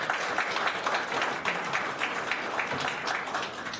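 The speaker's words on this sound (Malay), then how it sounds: "Tepukan kepada anda semua." Audience applause at a Malaysian gathering, dense continuous clapping from a crowd filling the room evenly for several seconds, without speech.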